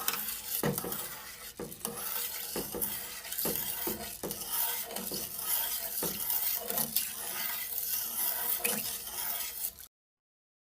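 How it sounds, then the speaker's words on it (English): A spoon scrapes through Jamaican-style curry chicken with butter, salt and a hot pepper in a sizzling pot, knocking against the pot in steady strokes about once a second over constant frying hiss, then sudden silence. "Now I'm gonna stir."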